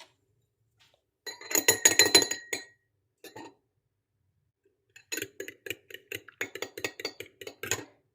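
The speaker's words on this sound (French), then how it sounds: "J'ai préparé ici dans mon petit bol un œuf avec un peu de lait que je vais fouetter avec la fourchette" An egg and a little milk whisked with a fork in a small bowl, heard as two bursts of rapid clinking taps against the bowl separated by a short pause, close and fairly quiet with no talk.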